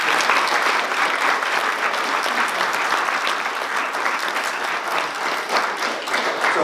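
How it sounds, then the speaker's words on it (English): Sustained applause from an event audience in a church hall at St. Mary's fills the room steadily and evenly, with no voices standing out above the clapping. "Everybody, round of applause."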